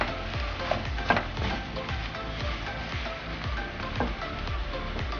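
Zucchini with chopped tomato and cilantro cook in a pan on the stove, a steady soft sizzle and bubbling simmer with faint stirring scrapes, no talk.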